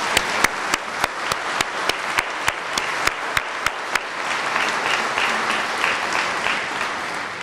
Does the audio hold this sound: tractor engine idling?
no